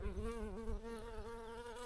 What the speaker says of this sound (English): you can see the bees loving it